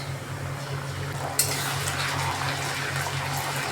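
Ginger-garlic paste hits deep-browned fried onions in a pan, setting off a sudden louder burst of sizzling that then holds as a dense, steady hiss while it is stirred.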